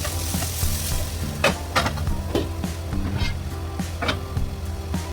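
Vegetables with garlic and ginger fry in a pan with cumin and coriander, a steady crackling sizzle broken by repeated scraping stirs of a utensil, close and alone without talk.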